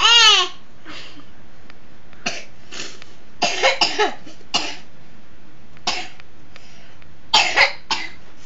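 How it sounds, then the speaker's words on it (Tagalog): Coughing in a home, one harsh cough burst at the start followed by scattered short coughs and throat-clearing sounds against a quiet background. "Kasama pa yung ubo."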